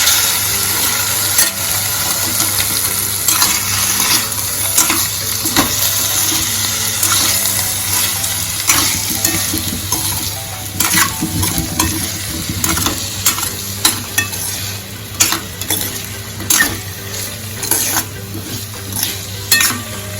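Potatoes fry in a pan with salt and sugar while being stirred steadily, giving a loud, continuous sizzle and crackle with frequent scrapes and clinks of the utensil against the pan, up close and without voices.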